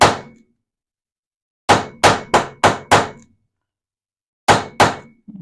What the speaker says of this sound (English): Let me see if I can get my hammer and smash that.